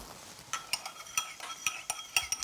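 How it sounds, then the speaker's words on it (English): Soy sauce and dry sherry are stirred in a pan, a series of light metallic clinks and scrapes of a utensil against the pan in a quick irregular rhythm, faint and close, with no voices. "Stir that through."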